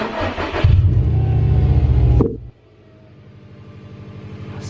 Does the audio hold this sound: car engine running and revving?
yes